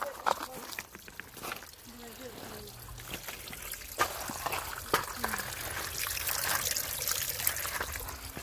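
Creek water trickles and dribbles steadily over rocks at close range, a soft continuous wash with light splashes, while people talk intermittently nearby.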